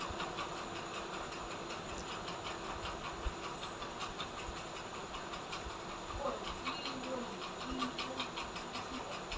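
A sewing machine stitches the side seams of a small child's kaftan in a steady, rapid, evenly paced mechanical clatter, fairly quiet and continuous throughout.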